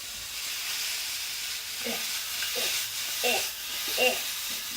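Apples frying in a pan give a soft, steady sizzle and hiss, with faint murmured speech in short bursts over the cooking.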